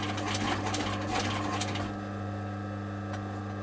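A sewing machine stitches a leather pouch face to face around a rounded corner, running in a steady close whir with rapid needle ticks for about two seconds before settling into a fainter motor hum.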